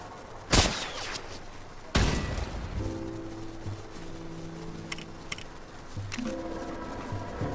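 Two sharp laser blasts fire from the Heartbreaker Iron Man suit in Lego Marvel Super Heroes, followed by a humming tonal drone and a few faint clicks and zaps from the game.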